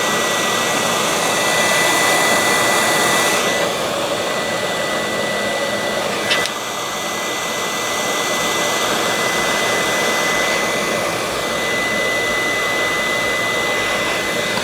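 Heat gun blowing on heat shrink tubing over soldered wires during a Commodore C64 Tac-2 joystick repair: a steady, loud broadband whoosh of hot air runs the whole time, with a brief shift in tone partway through.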